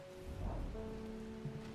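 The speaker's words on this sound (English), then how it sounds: "I love rain sounds when I can't sleep." Soft rain patters steadily on a surface in the video game Strange Horticulture, a faint, even background hiss with no voices.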